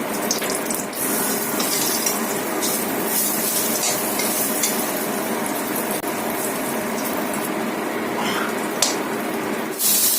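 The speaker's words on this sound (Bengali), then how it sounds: "বেগুনটা ভাজা হয়ে গেছে" Eggplant slices fry in oil with a dense, even hiss and crackle up close, steady throughout with occasional sharper pops.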